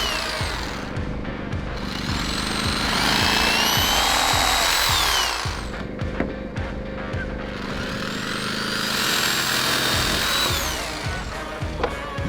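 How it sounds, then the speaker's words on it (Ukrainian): An electric jigsaw saws through a wooden beam, cut to size for the frame of a floating house, its motor rising into two long loud cutting passes with a steady rhythmic chatter and short pauses between. "Електролобзиком підпилюємо його до потрібних розмірів."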